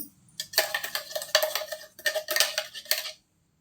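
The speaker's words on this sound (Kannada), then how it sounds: "ಇದನ್ನೀಗ ಇದರೊಳಗೆ ಹಾಕ್ಕೊಂಡು ಚೆನ್ನಾಗಿ ಮಿಕ್ಸ್ ಮಾಡ್ಕೊಳ್ಳೋಣ" A spoon clinks and scrapes against a cup, stirring milk into banana and carrot juice in quick rhythmic bursts over about three seconds. The sound is close and fairly quiet, and no one speaks.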